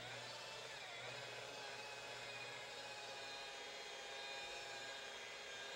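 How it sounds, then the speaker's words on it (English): A car buffer polishing paint with medium-grade automotive rubbing compound gives a steady, continuous whirring hiss with a low motor hum beneath, unbroken throughout at moderate level. "I start buffing with the medium-grade automotive rubbing compound"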